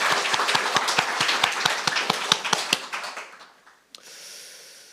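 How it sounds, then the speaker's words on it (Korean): A church congregation gives a burst of rhythmic clapping during a Sunday worship service, sharp repeated claps that fade out over a few seconds, followed by a faint brief knock and quiet room tone. "다시 한번 큰 박수"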